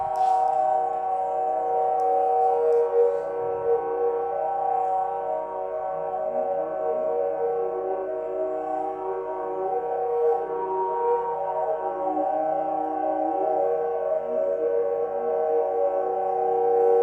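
A 1972 biofeedback music piece plays back as layered electronic tones. The drones are sustained and harmonically rich, with slowly wavering, gliding pitches underneath. The sound is steady and moderately quiet, continuous for the whole stretch, and nobody speaks.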